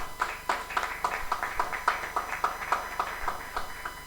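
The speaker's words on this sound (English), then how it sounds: "I think we need to give Chinelo another round of applause" At a conference session, a small audience gives a round of applause, with sparse, distinct hand claps in an uneven patter, moderately close and without talk.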